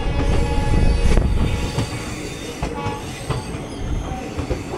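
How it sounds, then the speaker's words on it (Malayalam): The Dadar Tirunelveli Express rolls past close by, a loud continuous rumble of wheels on rail with rhythmic clacks and metallic squeal, heard from another train. "ദാദർ തിരുനെൽവേലി എക്സ്പ്രസ് ആയിരുന്നു"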